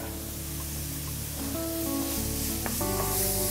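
Carrots seasoned with salt and pepper fry in a pan for a breakfast dish, giving a steady, close hiss and sizzle throughout with faint tonal hum underneath and no talking.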